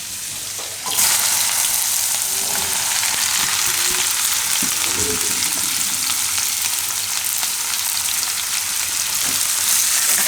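Okra drops into hot oil with fenugreek, garlic and asafoetida and a loud, steady sizzle breaks out, continuing evenly with faint stirring scrapes and no voice.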